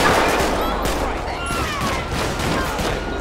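Rapid, sustained gunfire from a police shootout in the video game GTA 5, with many overlapping shots crackling continuously at loud level amid a busy, chaotic mix.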